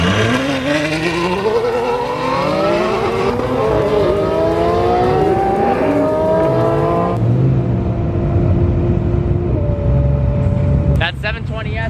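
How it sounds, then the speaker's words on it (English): McLaren 720S and Ferrari F12 roaring down a drag strip side by side, rising engine pitches climbing through gear shifts, loud and close, then fading away with someone talking underneath. "the 720S versus the Anarchy F12. Best sounding car here for sure"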